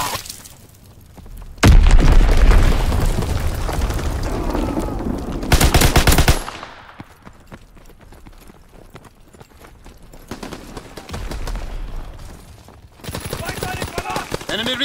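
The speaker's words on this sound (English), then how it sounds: "Dropping Fritz X bomb." Explosions and gunfire from a Fritz X bomb drop in the Call of Duty WW2 video game, with a loud booming burst and rumbling blasts, then scattered shots under game voices.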